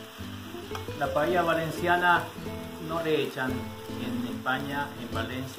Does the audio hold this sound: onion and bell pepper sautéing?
yes